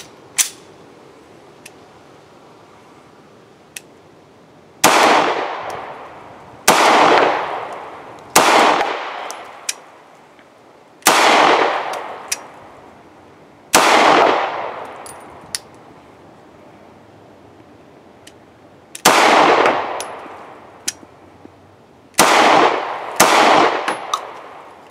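A Lionheart LH9 pistol, a Korean Daewoo K5/DP51-type triple-action handgun, fires single sharp shots one by one with irregular pauses, each crack followed by a ringing decay, about eight shots in all.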